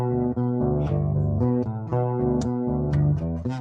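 A 1600s-style bass line played as a moving melodic part, with steady stepping notes of shifting pitch carrying a full harmonic tone, loud and clear with no talking.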